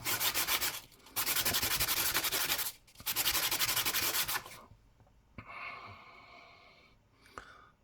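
Rapid back-and-forth rasping of very fine sandpaper on a bronze Irish half penny coin ring, loud strokes in three bursts with brief pauses, then quieter scattered handling noises and scraping.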